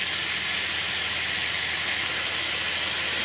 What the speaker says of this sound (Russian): Мясо продолжает шипеть.